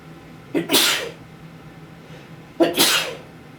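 Two sharp sneezes, each a quick intake followed by a loud burst, about two seconds apart, close by in an otherwise quiet room.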